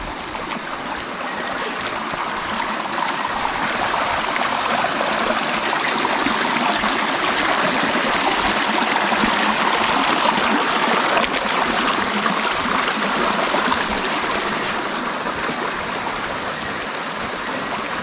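A clear forest stream flows steadily, a continuous close rushing and babbling of water that stays even and unbroken, with no voices.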